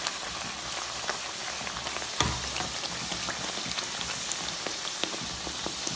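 Bhatura for chole bhature fries in hot oil, with oil spooned over it as it puffs, giving a steady, dense crackling sizzle and a single soft thump partway through.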